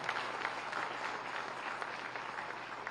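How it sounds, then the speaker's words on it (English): Steady applause from the audience at a world junior chess championship prize ceremony, honouring the chief arbiter; dense, even clapping fills the room without talk. "the chief arbiter from Armenia, Mr. Ashok, a huge round of applause"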